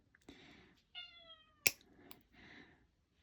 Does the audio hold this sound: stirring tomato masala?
no